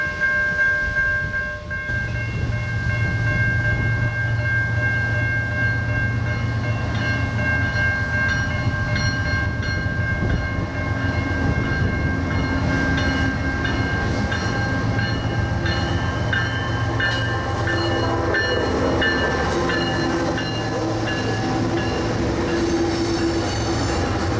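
A train rolls past nearby at Griffith, Indiana with a steady rumble, clanking wheels and high squealing tones from the rails, continuing loudly throughout.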